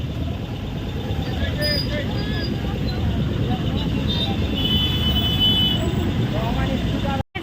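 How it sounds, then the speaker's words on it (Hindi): Busy street traffic near a Hindu temple in Durg city, a steady loud roar of engines and tyres with passing heavy vehicles, continuous throughout and close by. "ट्रैफिक देखो, ट्रैफिक"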